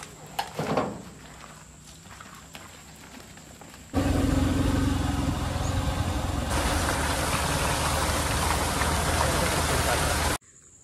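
A vehicle engine idles at the end of a road before parking, on a crab-catching outing. A steady, loud engine hum begins suddenly partway through and runs evenly until it cuts off abruptly near the end.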